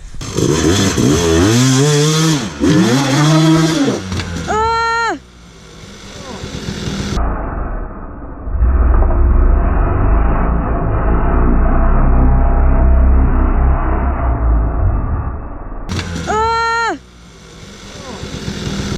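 A dirt bike engine climbs over a rock on a hillside, revving hard and loud with rising and falling pitch. It cuts to a lower, rumbling passage with what sounds like wind or a voice, then revs sharply again.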